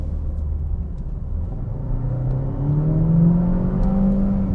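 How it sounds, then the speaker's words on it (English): Mercedes A-Class A200 engine at full throttle from inside the car, a low droning rumble that climbs steadily in pitch as the revs rise, growing louder toward the end with no talk over it. "if I floor it, there's a lot of sound"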